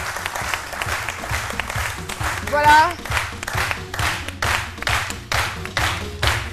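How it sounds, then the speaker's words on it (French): A studio audience on a midday TV talk show applauds a guest with steady, loud clapping that carries throughout, while a host speaks briefly over it. "Je vous demande d'applaudir très fort Ahmed Dosso"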